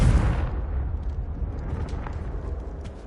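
In the Hogwarts Legacy video game, a Confringo fire spell lands in a heavy explosion that booms loudly at the start and then rumbles as a long, fading roar.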